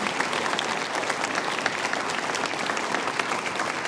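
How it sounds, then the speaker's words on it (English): A medical school Match Day audience applauds, a dense, sustained wash of many hands clapping at moderate distance with no pause. "I just want to give another round of applause for the folks that really put this theme together"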